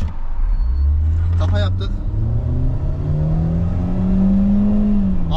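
A 102-horsepower Audi A3 1.6 with an 8-valve engine pulls hard from a standstill in sport mode, its engine note rising steadily in pitch as it revs up, heard from inside the cabin while someone speaks briefly.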